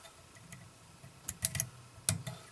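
Small scissors snip thread at a fly-tying vise, a few sharp, quiet clicks in two brief clusters over a hushed room.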